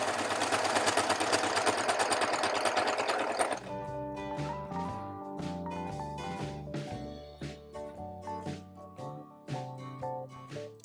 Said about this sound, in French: C'est un bon entraînement à la surjeteuse parce qu'on va tourner dans les angles sans lever